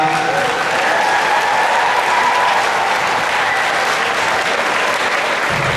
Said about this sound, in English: So if you could, just give them a round of applause.